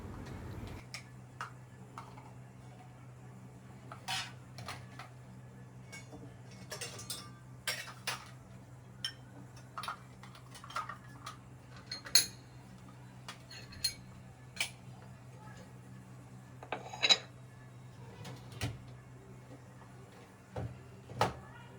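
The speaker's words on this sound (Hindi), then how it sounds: "बर्तन निकालने के बाद एक और काम होता है बर्तन लगाने का।" Dishes and utensils being put away in a home kitchen, scattered faint clinks and taps of cutlery and pots over a steady low hum, without talk.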